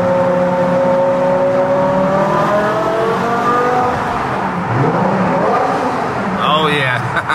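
A Cybertruck-style vehicle's engine runs steadily for several seconds, with a rising tone near the end, as people talk over it throughout.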